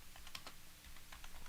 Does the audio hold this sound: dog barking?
no